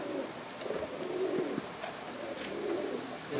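Kasuri breed pigeons coo softly in repeated low throaty rolls, close by over a steady background hiss, with a few faint clicks and rustles between calls.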